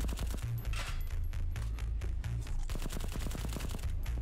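Sustained automatic gunfire in the shooter game VLADiK BRUTAL, with dense rapid shots rattling loud and close throughout, broken by a few short pauses.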